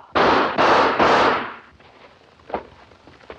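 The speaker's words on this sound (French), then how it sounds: "Ne tire pas!" Three sharp gunshots fired in quick succession in a 1947 French crime film, loud and close, followed by fading echoes and a few faint clicks and thuds.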